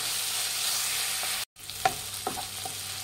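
Tomato and turmeric frying in a pan, a steady sizzle with a short break and a few scraping stirs near the end, no speech.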